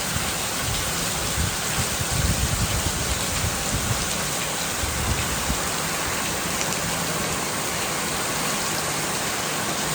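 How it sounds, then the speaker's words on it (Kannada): Steady rainfall pattering on surfaces, a dense continuous hiss with heavier drops now and then, fairly close. "ಮಳೆ ಬರ್ತಾ ಇದೆ ಗೈಸ್"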